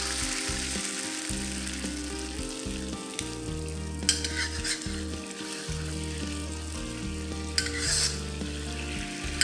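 Tofu being stirred into boiling chili bean sauce in a pan makes a loud, steady sizzle and bubbling, with repeated clinks and scrapes of a spatula against the pan and a few sharp knocks.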